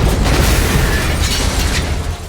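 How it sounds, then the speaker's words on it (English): A Lincoln Navigator blows up in a violent car explosion in the TV drama Tulsa King, a loud, sustained blast with a roaring burst of debris and noise that fades slightly toward the end. "the Navigator erupts in a violent explosion"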